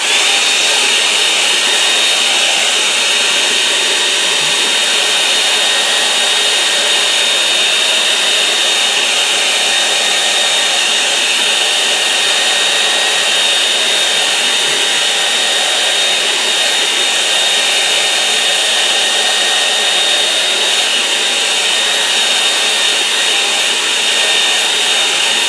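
Hair dryer drying a snow scene painting, a loud, steady, continuous blowing whine held close throughout with no talk.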